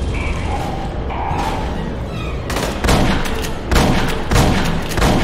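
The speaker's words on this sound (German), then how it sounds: "Oh, ich habe nochmal einen dritten Reserveschuss gegeben" Gunfire from the video game Aliens: Colonial Marines, with rapid bursts and heavy booming shots that layer over a constant noisy battle backdrop and grow louder in the second half.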